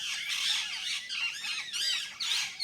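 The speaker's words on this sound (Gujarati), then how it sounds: "ઓહો પોપટ" A parrot squawking outdoors along the Narmada riverside, a series of loud, harsh, rasping calls in quick succession, close and clear with no talk.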